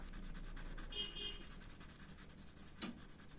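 A B-grade graphite pencil shades a bonsai drawing on paper, giving a steady, soft scratching rub that runs close and continuous with no talk.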